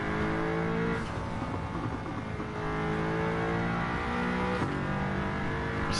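A V10 car engine in the Gran Turismo video game holds a steady, loud drone with sustained harmonics, shifting pitch slightly at gear changes around the one- and five-second marks.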